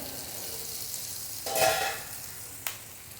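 Bombil (Bombay duck) fish fry in a pan, with a steady low sizzle that swells into a louder burst of frying and ends on a short sharp clatter, close by and without speech.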